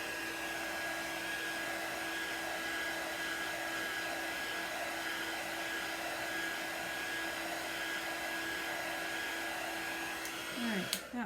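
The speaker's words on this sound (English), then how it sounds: "These are super high concentrated heat tools." A high-powered heat tool blows hot air steadily to dry chalk paste in jars, a constant whirring rush with a faint whine that holds for over ten seconds before a few light clicks and shifts at the end.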